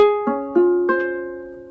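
A guitar chord picked slowly, string by string, four notes entering one after another and ringing together, clean and alone.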